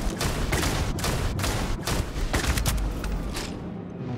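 Sustained blaster fire in Starfield crackles in dense, rapid volleys, loud and continuous with sharp bursts throughout before cutting off near the end.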